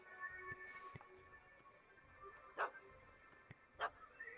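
Dog barking in The Witcher 3 video game, a puppy chasing a cat up a tree: two short sharp barks spaced over a second apart with faint whimpers, over low background ambience.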